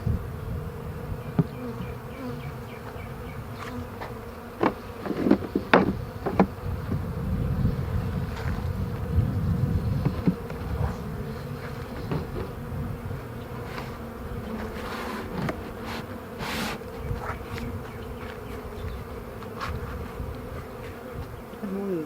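Honeybees buzzing steadily around a syrup feeder can at a hive, a dense continuous drone close to the microphone with occasional louder passes and light clanks.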